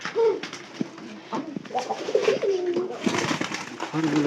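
Pigeons coo close by in a loft, soft throaty rolling calls repeating in short overlapping bursts, with faint rustling and a voice briefly in the background.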